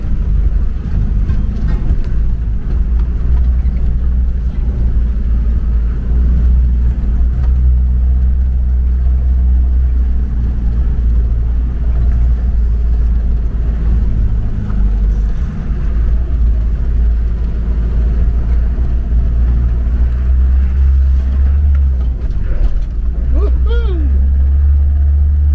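A Range Rover 4x4 driving off-road on a green lane, recorded from inside as a loud, continuous low engine and road rumble with bumps and shifts in pitch, and a short rising whine near the end.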